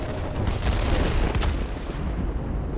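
Small 50-kilogram bombs from a World of Warplanes aircraft explode in dense, rumbling booms that blend into a continuous loud roar of engine and blast noise.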